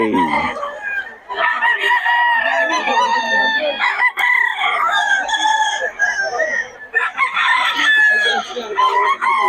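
Gamecock rooster of the Sweater bloodline crowing repeatedly, loud and close, with clucking between the calls. Quiet chatter from a poultry market stall sits underneath.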